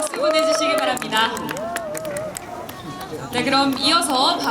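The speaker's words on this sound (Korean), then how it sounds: "뜨거운 축하 무대였습니다. 박수 보내주시기 바랍니다." Audience applause and crowd noise after a celebratory stage performance at Gwacheon Let's Run Park, with clapping mixed under an announcer's voice and continuous hubbub throughout.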